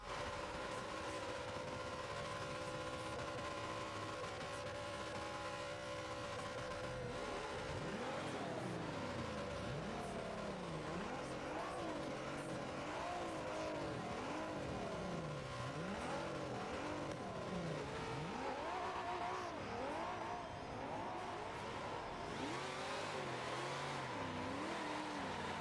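Racing game cars, an old Ford Falcon and a Nissan GTR, race on the Nurburgring, engines revving and shifting in repeated rising and falling sweeps, loud and continuous over steady background noise.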